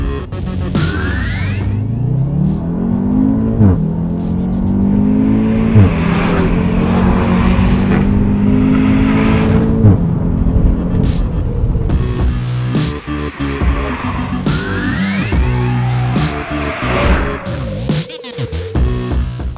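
An Audi TTS Roadster convertible with the roof closed accelerates hard from 0 to 100 km/h. The engine note climbs in repeated rising sweeps, with a brief drop at each gear change. It is loud and close, and a final long rising pull comes near the end.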